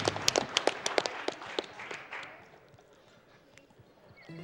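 Audience applause at a Games Done Quick speedrun marathon event, a burst of scattered clapping that fades out over a few seconds with a few sharp individual claps near the start.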